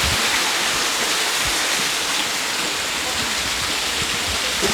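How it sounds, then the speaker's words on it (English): A waterfall under an aqueduct in Kyoto roars steadily as a loud, dense wash of rushing water, close and unbroken throughout. "Waterfall"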